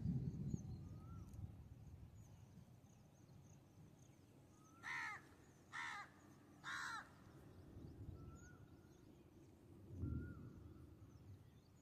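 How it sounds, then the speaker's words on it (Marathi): A crow caws from a tree in overcast, rainy weather on a farm at rice-sowing time: three harsh caws in quick succession at mid-distance over a low rumbling background. "कावळा ओरडतो झाडावर बसून।"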